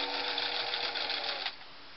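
A Singer Model 347 sewing machine runs a width 1 stitch at 12 length, a dense steady mechanical whir with rapid needle clatter for about a second and a half before stopping abruptly.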